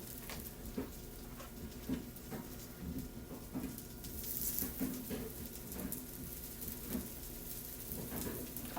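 Spoonfuls of spicy bean cake batter frying in a hot skillet, a faint crackling sizzle with scattered soft pops throughout, quiet and steady with no talk.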